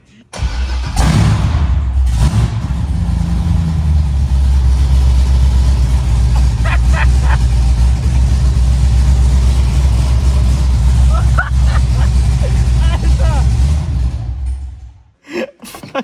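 A Corvette Z06 C6 fires up after its intake is mounted, a loud deep rumbling idle that holds steady for many seconds before cutting off, with brief voices faintly underneath.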